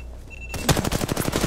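Gunfire in Apex Legends: after a brief quiet moment, a fast burst of automatic shots erupts loud and close, rattling rapidly to the end.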